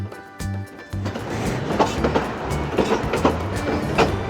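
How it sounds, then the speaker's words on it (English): Durango and Silverton passenger train rolling along the rails, a loud steady clickety-clack of wheels over rail joints with rumbling carriage noise, heard up close from on board. "We've been on the train for about 3 hours now."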